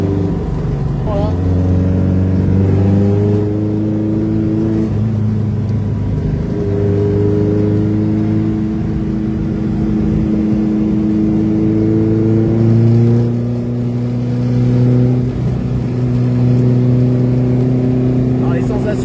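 A rear-engined Vespa 400 microcar, said to weigh 500 kg with 90 hp, is heard from on board during a ride. The engine rises in pitch again and again, dropping between gear changes, loud and close.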